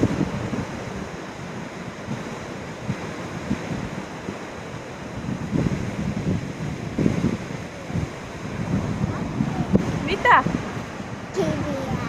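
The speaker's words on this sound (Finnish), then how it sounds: "Me tultiin Kukkolan koskelle. Täällä tuulee." Wind blowing at the Kukkolankoski river rapids, strong gusty buffeting of the microphone over a rushing water roar, rising and falling in loud surges with a brief faint squeal near the end.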